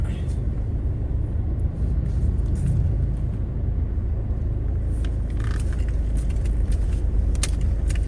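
A car idles and creeps along in slow, stop-start road traffic at red lights, with a steady low engine and road rumble throughout and faint clicks and rattles above it.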